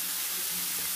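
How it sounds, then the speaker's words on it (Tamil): Ginger garlic paste sizzling in a hot pan, heard as a brief, steady hiss of frying with no voices. "இஞ்சி பூண்டு பேஸ்ட் ஆட் பண்ணிடுறேன்."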